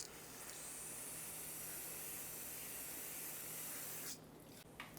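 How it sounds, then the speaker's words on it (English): Brake parts cleaner sprayed onto the rear wheel hub of a 2014-2021 Mazda 6, a steady, close aerosol hiss that runs unbroken for about four seconds before cutting off, followed by brief quieter bursts. "So I'm going to rinse it off with a brake parts cleaner."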